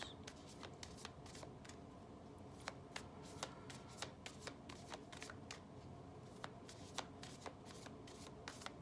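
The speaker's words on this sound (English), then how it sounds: "let's continue using the Soul Coaching Oracle cards, see what else comes out" Oracle cards of the Soul Coaching deck being shuffled by hand, a steady run of soft riffling clicks and flutters, close and fairly quiet, with no speech over it.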